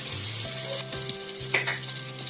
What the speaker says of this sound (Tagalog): Magigisa na tayo ng sibuyas, bawang, at saka luya.